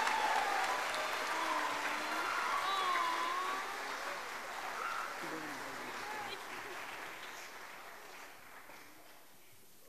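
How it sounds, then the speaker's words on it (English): Audience applause at a mariachi concert, broad clapping that gradually fades, with voices and cheers over it in the room. "So let's give one more round of applause to Clarissa Rodriguez"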